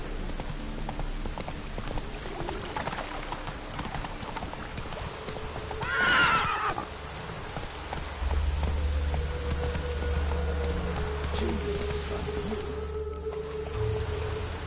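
Roach the horse in The Witcher 3 gives a loud whinny partway through, set against steady hoof clip-clops and a rain-like patter, with a low rumble joining later.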